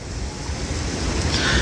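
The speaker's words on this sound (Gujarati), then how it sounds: "નાગવા બીચનો અત્યારે સાંજના સમયે દરિયાનું પાણી છે જે છેક આગળ આવી જતું હોય છે" Sea waves at Nagoa beach in Diu during the evening, as the tide pushes far up the shore, roar as a loud continuous surf wash with strong wind buffeting the microphone.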